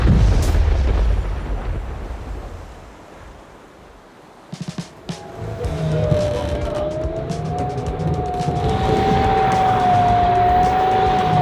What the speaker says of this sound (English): So that noise that I'm hearing isn't good. It's the propellers.